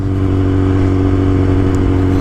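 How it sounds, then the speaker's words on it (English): A vehicle engine idles with a low, steady exhaust drone, holding even and loud near the microphone for the whole stretch with no clear rise in revs. "Hopefully my exhaust doesn't come through too loud on this mic"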